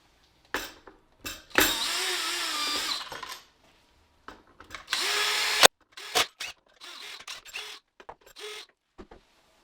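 A handheld power drill whirs in short and longer bursts with pauses between them while an Ambrogio 4.0 Elite and a Husqvarna Automower 430X robot lawn mower are stripped down, alongside small clicks and clatter of parts, and no talking.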